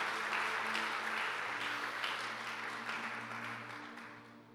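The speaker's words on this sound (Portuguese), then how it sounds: "Pode dar um lindo aplauso ao Senhor." A church congregation applauds the Lord during a Portuguese-language service, dense clapping with a low sustained tone beneath it, fairly faint and slowly fading out.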